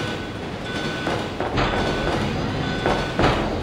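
Train rumbling inside Resident Evil 2 on PS1, a steady low mechanical drone with periodic louder surges and faint rattling, continuous and fairly close throughout, with no speech.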